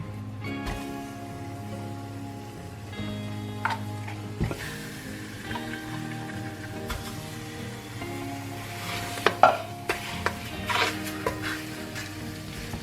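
Spicy jalapeno refried beans warming in a pot, giving a low, steady sizzle with occasional scraping stirs and small clinks of a utensil against the pot.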